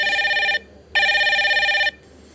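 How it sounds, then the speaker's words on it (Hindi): A video call ringing tone on a televised quiz show set: two loud electronic ring bursts with a short gap between them, followed by a fainter third start, and no voices over it. "ये एक वीडियो कॉल होगा।"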